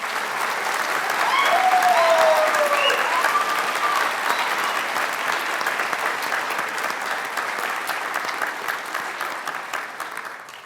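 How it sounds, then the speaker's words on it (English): Sustained applause from the crowd at an Ivy Day ceremony honoring the 2022 royalty swells early, holds strong, then gradually fades toward the end, with a faint voice briefly audible over the clapping near the start. "Let's have one final round of applause for the 2022 Ivy Day royalty."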